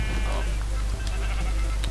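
Sheep bleating in the Minecraft video game, a short blocky baa from a farm animal, heard amid constant game background noise with faint speech nearby.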